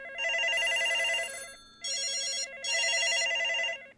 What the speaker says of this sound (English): The phone soon began to ring